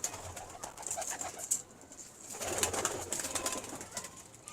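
Teddy-Sialkoti cross-breed pigeons coo in soft, low rumbling calls, with a faint rustle of feathers, close by and repeating over a steady background hiss.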